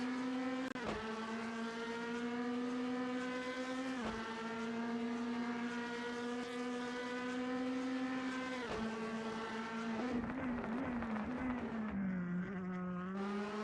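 Steady high-revving race car engine in a DTM sim racing game, with sharp gear-change dips every few seconds and a fluctuating downshifting passage near the end, loud and continuous with no talk.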